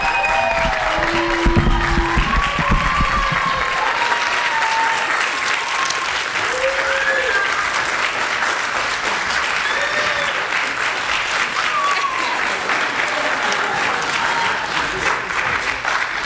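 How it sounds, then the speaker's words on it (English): At a high school Hispanic Heritage Month celebration, a standing audience gives sustained, loud applause for a woman, with scattered whistles and cheers rising over the thick clapping throughout. "So if you could please stand up and give her a round of applause"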